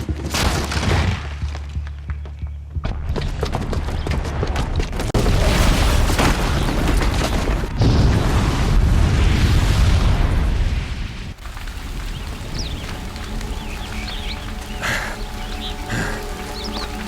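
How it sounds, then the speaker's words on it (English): A booby-trapped bomb detonates in the game Horizon Zero Dawn, a loud, heavy blast followed by sustained roaring rumble and crumbling debris that fades into quieter scattered clatter and ambient noise. "the booby trap on the bomb downstairs is gonna get set off"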